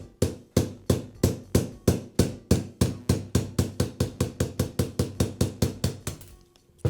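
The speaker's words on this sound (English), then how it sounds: "First, I'll remove the retaining pin." Regular hammer taps knocking the retaining pin out of a Bostitch roofing nailer's nail feed piston, about two dozen sharp metallic strikes in an even rhythm that speeds up slightly, close and loud, then stops.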